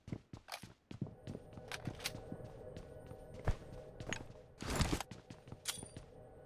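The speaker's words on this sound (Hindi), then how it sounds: "सामने घर से फुटस्टेप्स आ रहे होते हैं" Footsteps come from inside a house in a battle royale shooter game: a run of irregular, fairly close steps and thuds with a few louder impacts in between.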